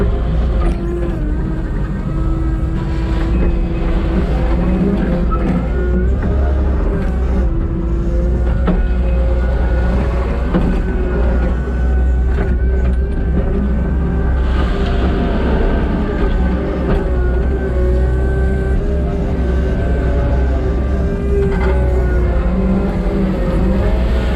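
A Kubota SVL compact track loader works steadily over a crusher-run gravel driveway laid on road fabric, its diesel engine droning loud and continuous with shifting hydraulic whine and track rumble close by.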